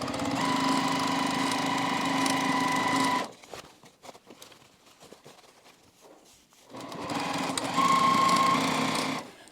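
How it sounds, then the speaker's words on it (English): A longarm-setup sewing machine runs steadily as it stitches a fabric casing, a loud close mechanical whir that stops for a few seconds of quiet handling noises and then starts again. "I'm just going to run it along this line on my machine"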